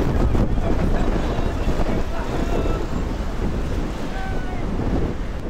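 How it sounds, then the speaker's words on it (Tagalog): Strong wind buffeting the microphone near a riverside wharf at night, a steady loud roar with broadband rumble and gusty low-end buffeting throughout. "ang lakas naman ng hangin"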